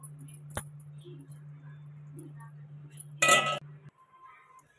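A metal lid clanks down onto a pan of egg gravy curry, a short bright clatter after a faint earlier tap, over a low steady hum from the stove.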